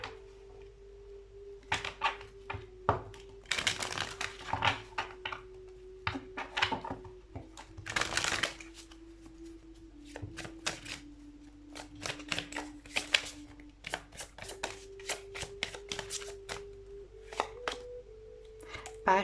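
Tarot cards being shuffled and drawn, with irregular bursts of crisp card riffles and taps over a low steady hum, close and moderately loud.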